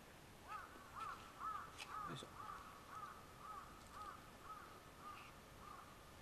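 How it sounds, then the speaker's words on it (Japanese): A crow caws repeatedly in a steady series of about a dozen hoarse calls, faint and somewhat distant, over low outdoor background noise at a mountain pass viewpoint, with no voices. "カラスが狙ってるよ。"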